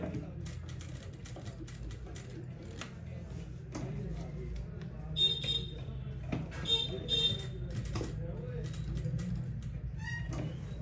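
A sewing machine stitches lace onto a salwar hem, a steady mechanical whirr with ticking, creaking clicks that come and go, close and moderate in level, with a person talking throughout.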